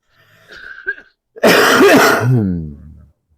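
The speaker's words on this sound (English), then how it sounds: "Sorry about all the coughing." A short throat clear followed by a harsh, rasping cough that trails off into a groan-like exhale, close and loud.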